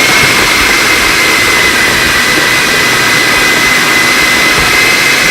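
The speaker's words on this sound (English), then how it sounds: "I have a rule when you blend." A kitchen blender running on snack bar ingredients, a loud, steady, high-pitched whirring roar that holds constant throughout with no pauses and no voices.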